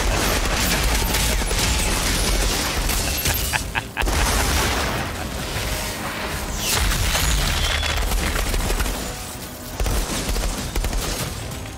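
Dense, continuous gunfire from a firefight in the video game Outriders, loud and sustained for the whole stretch, with rapid bursts and heavy booms layered over one another and a brief dip before the shooting resumes.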